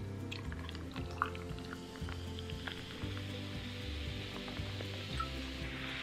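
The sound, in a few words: toffee apple cider fizzing after being poured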